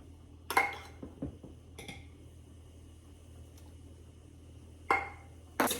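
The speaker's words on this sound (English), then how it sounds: "And then we're gonna mix a tablespoon of flour." Milk and a tablespoon of flour are mixed in a measuring cup, giving a few quiet, scattered clinks and taps of a utensil against the cup with soft stirring between them.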